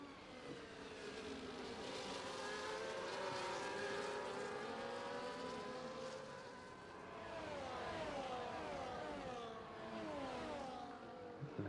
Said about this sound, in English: Tenor getting a bit too throttle happy there, hearing the rear tyres spin up there as he exits turn 10